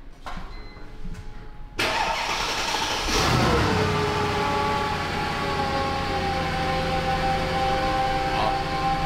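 A car engine starts after a few clicks and settles into a steady idle, running smoothly and close by for several seconds before a gear is engaged in a private garage.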